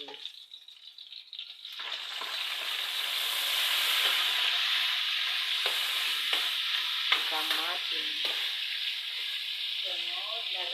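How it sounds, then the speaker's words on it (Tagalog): Onion and garlic sauté in a hot pan, first a few stirring clinks, then a loud steady sizzle that swells and holds while a spatula scrapes in quick bursts. "Gisa ko na ang sibuyas, bawang."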